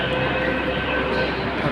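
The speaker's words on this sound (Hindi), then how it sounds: "आप देख सकते हैं जामा मस्जिद स्टेशन है ये रेलवे मेट्रो ट्रेन का" A Delhi metro train runs at Jama Masjid station, a steady, dense rumble of wheels and carriage noise with a low hum that holds evenly throughout, with no talk over it.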